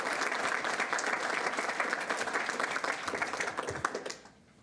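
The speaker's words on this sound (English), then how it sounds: "if we could give her a round of applause" At a school district board meeting, a gathering gives a round of applause for an honoree: brisk, dense clapping from many people, close and steady, which tapers off and fades out in the final second.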